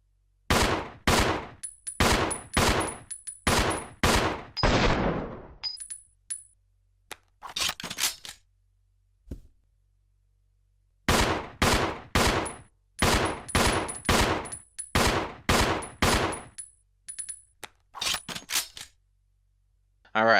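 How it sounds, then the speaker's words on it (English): Billy fires a customized pistol in Resident Evil Zero HD Remaster: rapid strings of crisp, sharp shots in quick rhythmic volleys, broken by short pauses and faint clicks, loud against near silence. "Alright, Billy really fires that thing fast. Probably because it's a very simple pistol for him, unlike the 1911."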